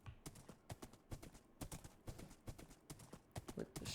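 Rapid clip-clop of horse hooves in the Minecraft Create mod, a quick continuous trot of sharp, closely spaced steps, fairly quiet and without any voices.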